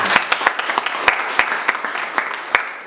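A church congregation claps together to acclaim the Lord, a steady, lively wash of applause with sharper individual claps popping out, filling the room without voices.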